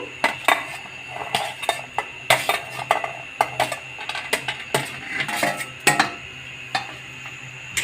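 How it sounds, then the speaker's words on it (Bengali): Fried potatoes stirred into mutton curry in a pot, with repeated metal clinks and scrapes of a spoon against the vessel in an irregular rhythm, close and fairly loud, with no talking. "এর মধ্যে এখন দিয়ে দেব ভেজে রাখা আলু।"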